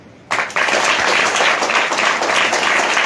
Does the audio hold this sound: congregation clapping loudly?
yes